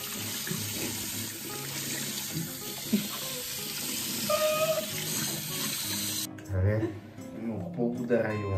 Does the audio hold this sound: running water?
yes